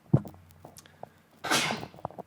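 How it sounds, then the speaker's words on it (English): A single wet, spluttering sneeze bursts out, a brief hissing spray after a small catch of breath, with quiet stirring sounds around it. "wet sneezing into his bare skin"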